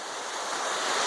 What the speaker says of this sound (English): this is the creek where I pulled most of my gold out